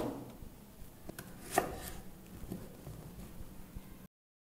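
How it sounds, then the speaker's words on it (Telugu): A knife chops tomatoes on a board for gongura (sorrel leaf) gravy: a few sharp, faint taps at irregular intervals over a quiet background, then silence. "టమాటాలను కట్ చేసుకుందాం."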